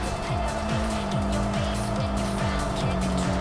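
A Porsche Boxster in the racing game Tokyo Xtreme Racer 3 revs steadily, its engine tone climbing repeatedly in a quick rhythm of shifts, loud and constant with game music or ambience underneath.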